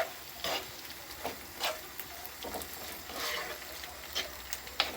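Cooking oil sizzles and crackles in a pan for a Jamaican-style green plantain and salt-fish cook-up, with soft irregular pops and stirring scrapes, fairly quiet and steady.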